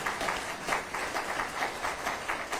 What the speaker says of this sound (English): Yeah, you can clap right there.